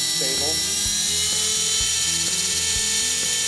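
A Trex 450 RC helicopter spinning up at about quarter throttle, a loud, close, continuous high-pitched whine with a steady rotor throb, and someone talking over it.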